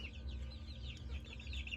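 Fancy chicken breeds such as silkies and Wyandottes in a Kolkata poultry shop, heard as a faint, continuous chorus of clucking over a low steady hum.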